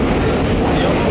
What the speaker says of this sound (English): Classic 60s train heading to CI.